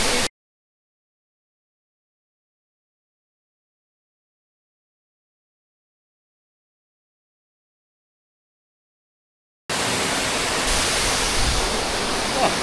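Roháčsky waterfall in the Roháče mountains: after a long silent gap, a steady, loud rushing roar of falling water bursts in near the end and holds evenly, with no voices.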